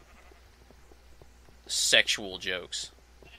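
Sheep bleat in Minecraft in a short cluster of wavering cries amid quiet background, overlapping a man's speech.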